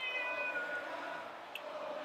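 A domestic cat meows faintly with a drawn-out, wavering call, heard at a distance over steady background noise while a wrestling video game plays.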